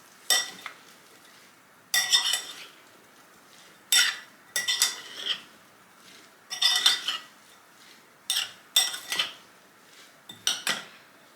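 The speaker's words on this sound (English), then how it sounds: "We're going to give this all a nice stir just to combine everything together" A spoon stirs strawberry salsa in a bowl to coat it with lime juice, giving repeated bursts of clinking and scraping, roughly one every second or two, close up with short quiet gaps between them.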